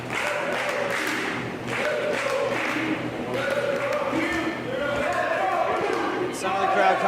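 A wrestling crowd at a New Texas Pro Championship match between Mysterious Q and Bryan Keith cheers and chants in rising swells, with a commentator talking over the noise.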